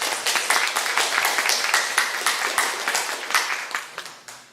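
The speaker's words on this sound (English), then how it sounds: "I think you should clap for them one more time." Audience at a Project Censored book launch claps steadily, dense overlapping hand claps filling the room with an even, sustained patter that tapers slightly toward the end.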